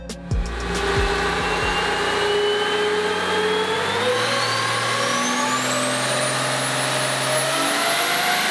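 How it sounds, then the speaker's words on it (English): A 2005 G56 diesel truck with injectors and a pusher add-a-turbo kit revs hard on a dyno, its loud engine pitch climbing steadily from a low roar into a rising whine across the run. "This is Trevor Amos's 2005 G56 truck"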